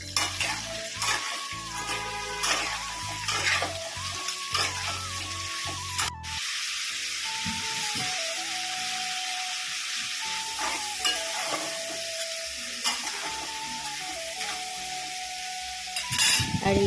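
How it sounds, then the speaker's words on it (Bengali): Crab coated in turmeric and salt fries in hot oil in a wok, giving a loud, continuous sizzle with stirring scrapes and clatter. No one speaks. "আর এখন হালকা হলুদ দিয়ে লবণ দিয়ে মেখে রাখা কাঁকড়াটা আমি একটু ভালো করে ভেজে নিচ্ছি"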